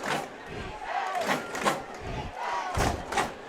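A high school football crowd in Pinkerton, a moderate, spread-out murmur of voices with a few short shouts rising and falling throughout.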